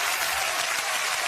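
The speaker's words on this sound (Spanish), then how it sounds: "Vamos a ver un aplauso a este señor." A studio audience gives a brief, dense burst of steady applause, close and loud throughout.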